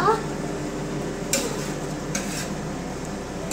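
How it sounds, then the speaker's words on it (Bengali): Meat sizzles as it braises in a pan on a home stove and is stirred, with steady close frying hiss and a few sharp spatula scrapes against the pan. "ও মাংসটা কষাচ্ছে, দেখুন আপনারা মাংসটাও কিভাবে কষাচ্ছে"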